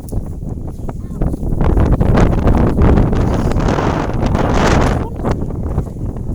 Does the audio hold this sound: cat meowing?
no